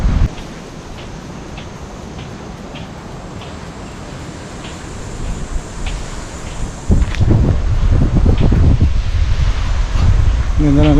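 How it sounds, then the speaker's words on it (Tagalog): Strong wind blows outdoors at a scenic coastal spot in Siruma, buffeting the microphone with steady roaring gusts that grow louder and rougher toward the end, while people talk underneath. "Ang lakas ng hangin."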